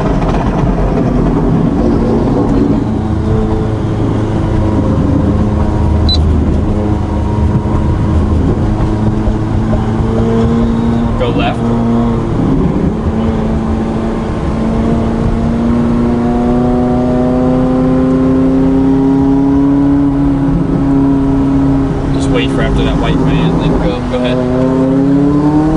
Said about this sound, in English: I do like the turbo spool. Like, you just hear it.